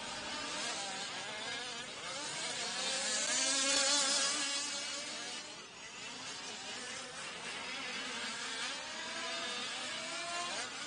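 Two-stroke racing engines rev hard on a dirt track, a high buzzing whine rising and falling in quick waves, swelling louder near the middle then settling back at a moderate distance.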